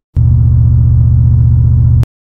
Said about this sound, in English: This here is the MRAP engine.